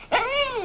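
A dog gives a single close, loud vocal sound that sits between a whining yip and a growl and tapers off over about half a second, with no talk over it.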